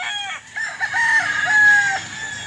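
A Lemon Sweater rooster crows loudly and close by in a Cebu farmyard, one long drawn-out call.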